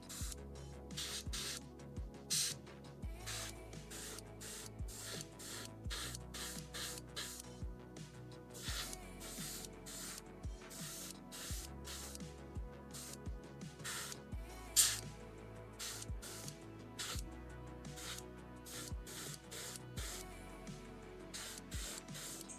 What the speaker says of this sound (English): if the airbrush noise is really annoying, let me know